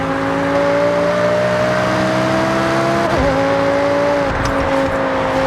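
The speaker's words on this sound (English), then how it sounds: "this V10 powered supercar could manage a top speed of 205 miles per hour" A V10 supercar in Forza Horizon 6 holds a loud, close, steady engine note that briefly dips around a gear change before pulling on again.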